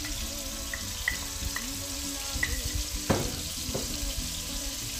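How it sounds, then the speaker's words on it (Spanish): Garlic and onion fry in a pan with a constant soft sizzling hiss, dotted with a few light clicks and scrapes of stirring. "Lo revolvemos aquí para que quede bien frito, que se fría."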